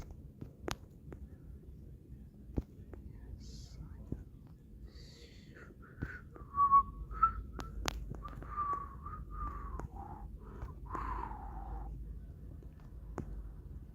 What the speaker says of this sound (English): Dude, I have a weak whistle